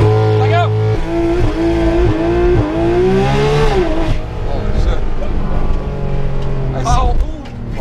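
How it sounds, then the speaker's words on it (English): A Porsche 991.2 GT3 RS launches at full throttle, its engine revving hard and climbing through rising pitch, dropping at a shift and surging again, loud and close from inside the car with voices over it. "This car's loud."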